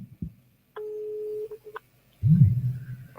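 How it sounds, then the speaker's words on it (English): A telephone call rings on the line: a single steady tone followed by short beeps, then a low rumbling noise, with no talk. "The phone is ringing."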